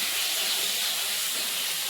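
A pot of koi fish curry boils hard, giving a steady, close bubbling hiss that stays even from start to finish, with no voices.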